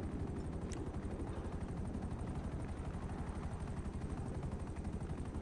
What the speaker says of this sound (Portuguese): chegou um helicóptero ali, hein?